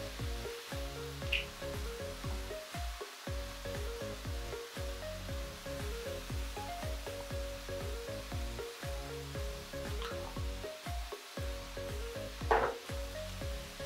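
Zucchini and other vegetables sauté in a pan, giving a soft, steady sizzle broken by irregular stirring scrapes and knocks, fairly quiet and without talk.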